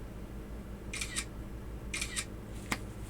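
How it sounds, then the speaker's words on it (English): A camera shoots close-up pictures of a 1950s Zenith Automatic 133.8 watch movement during disassembly. Three short shutter clicks, two of them double, sound close over a quiet background hiss. "Take another really close-up picture of this."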